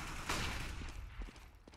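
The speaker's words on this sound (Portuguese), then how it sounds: "acaba seus disparos também de M4A1" M4A1 rifle fire in a competitive esports video game match, heard as faint, quick shots and short bursts with mechanical clicks, fairly distant and low in level.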